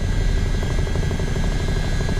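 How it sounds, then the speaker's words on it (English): A Chinook helicopter flies at about 50 knots while descending toward a short landing strip on a mountainside near Everest. It gives a loud, steady, close-up rotor and engine roar with rapid low thumping and a constant whine, and no voices. "But again, I am in a helicopter"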